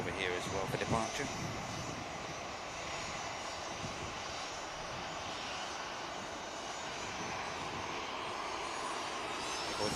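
A business jet departing Manchester Airport makes a sustained, distant jet-engine roar, with brief sharper bursts at the start before settling into a steady rush.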